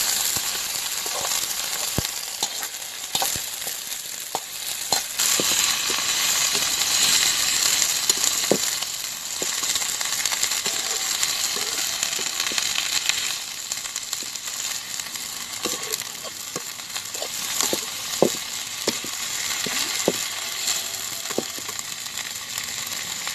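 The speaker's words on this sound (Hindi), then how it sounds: "अब हम इसमें सब्जी डाल देंगे।" Radish leaves are dropped into browned onions frying in a pan, giving a steady, close hiss of sizzling broken by scraping and clicking from stirring, with no talking.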